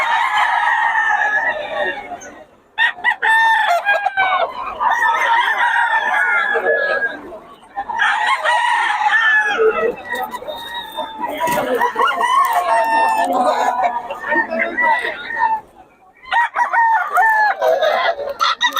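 Roosters crow and hens cluck loudly and almost continuously at the Bocaue gamefowl market, several birds close by and overlapping, with brief pauses.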